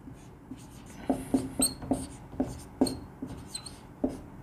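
Writing on a board during a Hindi lecture on the Indian constitution: a run of short scratchy strokes and taps in an irregular rhythm, fairly close and quiet, with no talking.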